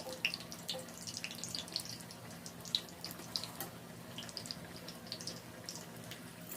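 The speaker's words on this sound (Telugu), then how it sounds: "ఈ బుడగలు తగ్గే వరకు కూడా ఫ్రై చేసుకోవాలి" Bitter gourd bajji fritters deep-fry in oil on low heat, making a faint, steady sizzle with scattered small pops and crackles.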